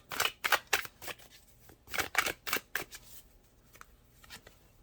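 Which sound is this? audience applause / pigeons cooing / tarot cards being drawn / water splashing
tarot cards being drawn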